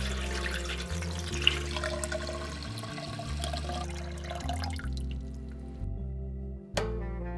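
Water runs and splashes into a container, filling a water bath for developing color film, with gurgling, dripping sounds, then stops, followed by a short clatter.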